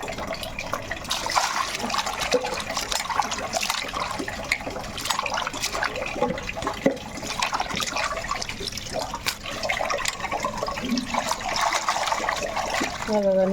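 Running water splashes and gurgles continuously while fish are rinsed and rubbed by hand, with occasional clatter, fairly close.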